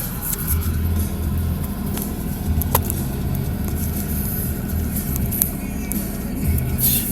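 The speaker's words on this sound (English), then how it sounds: "just look how many cars there are" Busy road traffic around 6 p.m. gives a continuous, moderately loud rumble of passing cars, with occasional faint clicks and no talking.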